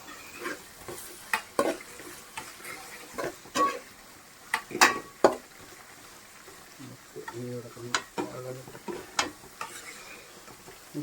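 Onions sautéed and stirred in a pan, heard as irregular close spoon scrapes and clicks over a faint sizzle, with a brief voice near the end.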